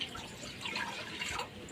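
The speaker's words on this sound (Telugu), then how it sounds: "పొయ్యి వెలిగించి బాండలి పెట్టి వాటర్ వేయాలి" Water splashes and trickles softly into a pan (kadai) on a lit stove, a brief, quiet liquid pour with no talk.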